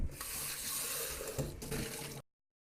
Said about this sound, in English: I'm just going to wash this out and we're going to reuse it to make the filling. So let me just rinse